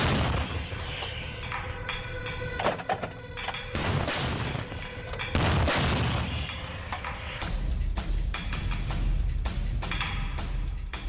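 M777 howitzer artillery firing in Ukraine: several heavy booming blasts and cracks with rumbling aftermath, spread unevenly across a noisy outdoor scene, with no talking.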